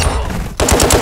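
Rapid automatic gunfire from the video game Call of Duty: Modern Warfare II rattles out loud and close, a quick burst of shots cutting in after a brief lead-in of game noise.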